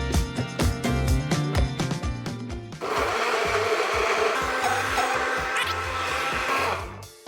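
Blender whirring steadily as it purees fresh fruit, feijoa and pineapple, with blackcurrant cordial into a smoothie, starting with choppy pulsing bursts before settling into a continuous loud grinding churn that fades at the end.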